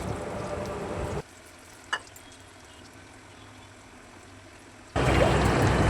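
Eggplant slices frying in oil in a pan, a dense close sizzle that drops to a faint hiss for a few seconds, with a single brief clink, before the loud sizzle returns.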